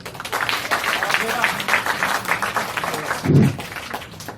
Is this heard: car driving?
no